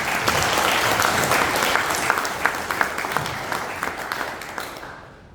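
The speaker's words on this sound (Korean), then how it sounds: "뜨겁게 박수 한번 쳐주십시오" Audience applause from company executives at a Korean People Power Party lawmaker's invited lecture, a dense, steady wash of many hands clapping close by, fading out near the end.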